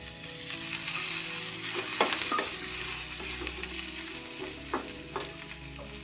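Tomatoes fry in a little oil for a North Karnataka–style tomato dish, a steady close sizzle with scrape-like stirring bursts and a faint high whine running throughout, no voices.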